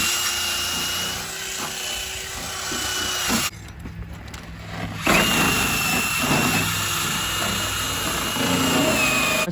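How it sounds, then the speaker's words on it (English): A wire brush scrubs a minivan bumper ahead of welding, giving a loud, steady grinding whir that drops away for about a second midway, then resumes just as strongly. "take a wire brush to our bumper"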